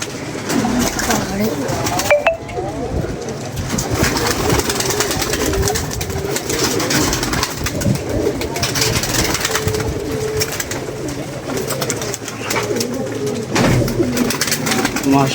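Pigeons coo repeatedly at a rooftop loft while others settle nearby, with a few wing flaps, people talking over the birds and a faint engine in the background.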